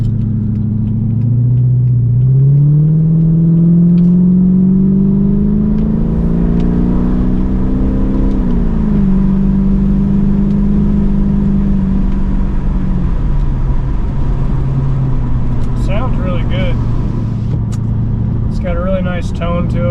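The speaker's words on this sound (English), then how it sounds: "I put Magnapack mufflers on it and deleted the rear resonators off, so it's got a pretty good sound to it" A 2006 Chrysler 300C with a 5.7 Hemi V8, fitted with Magnaflow mufflers and with the rear resonators deleted, idles deeply, then rises into a sustained rev before settling back, loud and close, with brief talk near the end.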